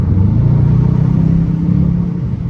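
A supercharged Dodge Challenger R/T rumbles loud and close during a car wash cruise, its low, throaty engine note swelling briefly and then easing off, and no voices are heard.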